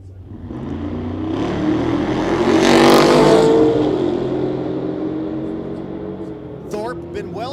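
A supercharged LS-powered car and a little red GTO with a trailer hitch launch side by side in a drag race, engines roaring louder into a peak, then fading as they pull away; a voice comes in near the end.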